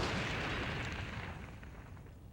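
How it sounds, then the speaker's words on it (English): A loud, sustained rumbling crash that slowly fades, like a heavy subway train grinding to a halt in the PC-FX game Kishin Douji Zenki FX: Vajra Fight, with no voices. "And now the train is coming to a crashing stop."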